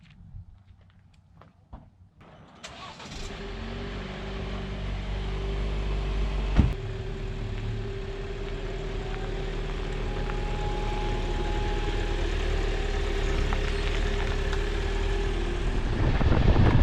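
Car engine starting after a winter hike near Devils Bridge in Sedona: a few clunks, then a rough crank and a steady, close idle rumble that holds and slowly builds, with no talk.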